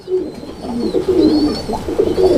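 Racer pigeons coo in low, repeated throaty phrases, close and steady, with a faint higher chirp now and then.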